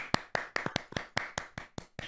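A single person clapping hands close to the microphone: about ten sharp, distinct claps in a slightly uneven rhythm over two seconds, with nothing else in the background.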